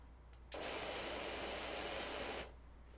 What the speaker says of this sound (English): do the spraying in nice, even, fairly even strokes of an area.